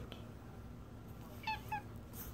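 A cat gives two short, faint meows in quick succession over a quiet indoor background, with no voices during the calls.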